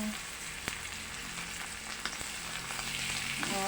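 Dried fish (tuyo) frying in a pan gives a steady, close sizzle and crackle throughout, with a few sharp pops and a brief scrape as the pieces are turned near the end.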